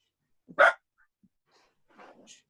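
A pet dog gives one sharp, close bark, followed after a pause by a few softer whimpering, breathy yips in a quiet room.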